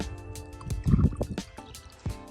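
Water is poured into a pesticide emulsion mix, an insecticide-acaricide for dormant grapevine treatment. The liquid splashes and gurgles close up in short irregular bursts over about two seconds.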